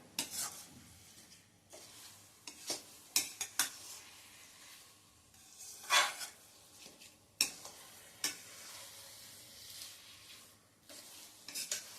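Alive (garden cress) seed mixture being stirred in a kadhai over a medium gas flame for laddoos, with a spoon scraping and clinking against the pan in irregular strokes over a soft sizzle, close and fairly quiet.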